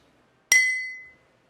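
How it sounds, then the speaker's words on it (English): A metal spoon taps once against the side of a glass of water, giving a bright ringing ping that decays over about half a second, close and alone. "I'm going to ping or gently pop the spoon against the side of the glass"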